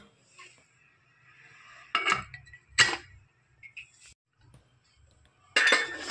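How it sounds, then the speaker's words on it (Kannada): A steel pressure cooker lid is set down and shut on the cooker holding ginger garlic rice bath, giving a few sharp metallic clinks and clanks spaced apart, with faint kitchen handling noises between them. "ಈಗ ಕುಕ್ಕರ್ ಮುಚ್ಚಳವನ್ನು ಮುಚ್ಚಿ 3 ವಿಷಲ್ ಬರುವವರೆಗೆ ಕೂಗಿಸಿಕೊಳ್ಳೋಣ."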